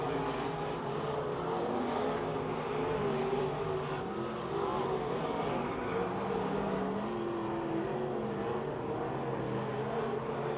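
Race cars circling Pennsylvania Motor Speedway near Pittsburgh, a dense continuous engine roar from a full field holding steady throughout, distant and unbroken.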